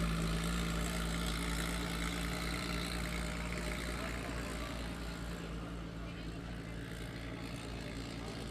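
A boat's outboard-type motor idles without a muffler on a creek at the Dargle 2023 racing event, a steady low drone with a faint whine that holds throughout and eases slightly toward the end, heard at moderate distance.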